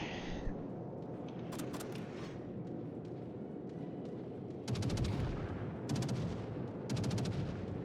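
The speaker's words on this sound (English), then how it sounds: "why are you firing your guns?" Ship guns fire from a lower-tier destroyer in World of Warships, heavy booming salvos over a constant rumble, with several sharp bursts of rapid shots in the second half.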